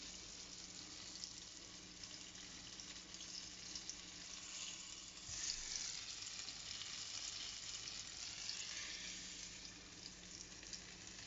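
Homemade fish fingers fry in hot oil with a steady, dense crackling sizzle that holds evenly throughout, fairly quiet and with no talking.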